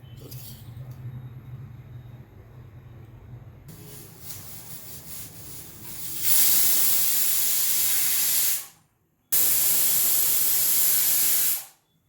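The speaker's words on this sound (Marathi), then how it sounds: "आणि आता आपण दोन शिट्या करून घेणार आहोत" A pressure cooker of sprouts rice lets off two long, loud whistling hisses of steam, separated by a brief gap, after a quieter stretch of low kitchen background.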